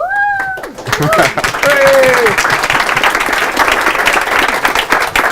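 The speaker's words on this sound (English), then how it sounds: "stand up on your feet and give a big round of applause to Gra inne Walsh." An audience at a Startup Grind Dublin event breaks into loud, sustained applause and clapping for a speaker, dense and continuous throughout, with a brief voice heard at the start.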